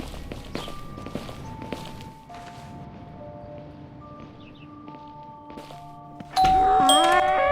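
A doorbell chimes in a series of sustained tones that overlap and hang, with a louder, busier burst of ringing tones near the end over soft background thumps.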